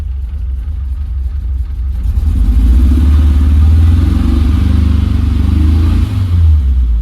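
Close, loud Volkswagen engine running with a steady low rumble that swells slightly, idling smoothly with a mild throb, no voices.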